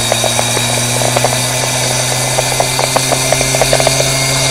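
A small live steam basic impulse turbine runs continuously with a high, steady whine and hiss, with scattered rattling ticks over the top, loud and close, with no voices.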